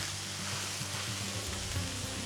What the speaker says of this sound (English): And you want to definitely hear that nice sizzle.